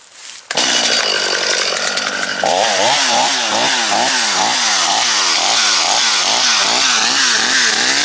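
A chainsaw with a dull, blunt chain bursts to life after a moment of quiet, then revs loudly and close in rapid repeated surges while cutting through hedge trees.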